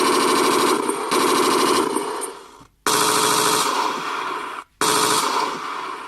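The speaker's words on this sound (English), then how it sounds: "Machine gun." A machine gun sound effect plays from a battery-box speaker in an RC tank: loud, rapid-fire rattling bursts, with two brief gaps before the firing resumes.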